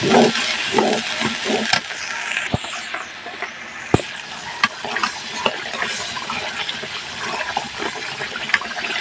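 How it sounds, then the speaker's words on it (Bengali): Chili powder and spices sizzle and crackle in hot oil in a pan while being stirred for meat khichuri, a steady close frying hiss with scraping stir strokes and occasional sharp clinks. "মশলাটা আমার কষানো হয়ে গেছে"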